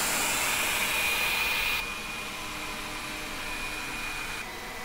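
A Viomi V3 robot vacuum's motor drones steadily with a hissing airflow, about 76 dB, dropping slightly to a softer level partway through, continuous and close.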